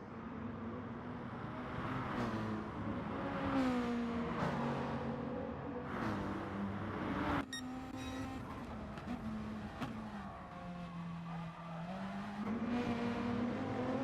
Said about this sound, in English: the engine from that Beetle is one of the most aggressive and sexy sounds I've heard out on track